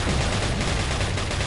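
Gunfire in the video game Resident Evil 4, a dense continuous burst of loud overlapping shots filling the whole moment with no pauses.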